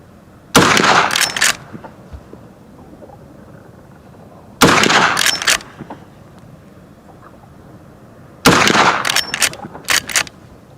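A Rossi R92 .44 Magnum lever-action rifle with a 16-inch barrel fires on a range, three loud, sharply separated shots about four seconds apart, each followed by quick rattling clicks from the lever.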